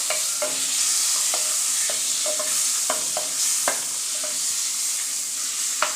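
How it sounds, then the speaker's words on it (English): Butter melting in a hot pot for a Jamaican one-pot meal, a steady bright sizzle with soft stirring scrapes and clicks, close and continuous without talk. "Okay, the butter is melted. Melting my butter."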